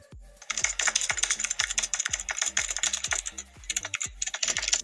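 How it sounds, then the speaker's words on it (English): A keyboard typing sound effect added in the KineMaster phone video editor: rapid, steady clicking keystrokes with a few brief pauses, crisp and close, with no talking. "I'm gonna add it to keyboard typing."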